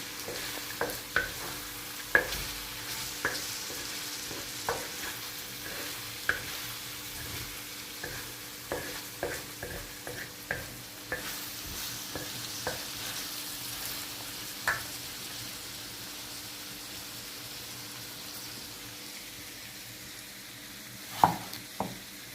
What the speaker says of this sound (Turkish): Böyle bir karıştıralım.